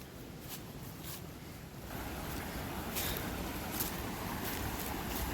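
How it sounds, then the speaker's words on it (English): Water rushes over a beaver dam in a creek, a dense, steady broadband roar that swells a little partway through, with some wind buffeting on the microphone and no voices. "that's me looking up the creek at the other dam at the water rushing."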